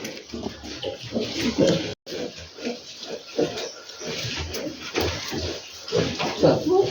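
Piglets and a sow rooting and feeding at a feeder on a farm, with repeated grunts and oinks, snuffling and clanking close by and water splashing.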